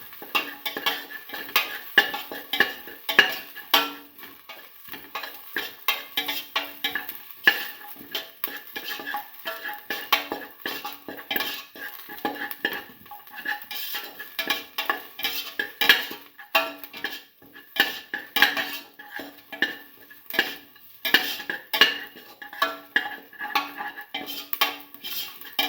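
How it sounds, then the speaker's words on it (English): Garlic sautéing in a pan while being stirred, with a steady run of scraping and clinking utensil-on-pan sounds over a light sizzle, close and fairly quiet, no talking. "saute garlic,"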